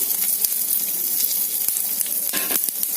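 Cumin seeds, curry leaves and drumstick leaves hit hot oil in a pan, giving a continuous bright sizzle with small crackling pops throughout.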